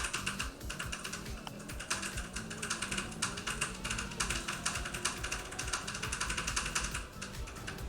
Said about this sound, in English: Sorry about loud keystrokes in the background